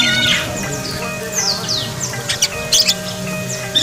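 Loud, close parakeet chirping, with bright rising and falling calls and quick repeated tweets that trade back and forth between birds, over a steady background hum.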